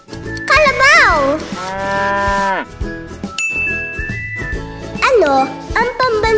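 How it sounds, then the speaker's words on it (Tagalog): A carabao, or water buffalo, mooing loudly and near, with two long drawn-out calls separated by a short pause and a bright ding, and a voice briefly audible. "Kalabaw."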